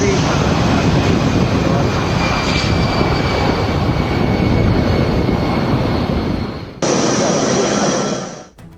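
A military airplane takes off from Hindon airbase in Ghaziabad as a loud, sustained engine roar that stays full and broad throughout, ending in an abrupt cut and fade with no talking.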